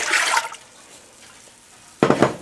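Apple cider vinegar poured into a pot for candying syrup for candied jalapenos, a short liquid splash at the start, then a near-quiet gap and a second brief burst of pouring.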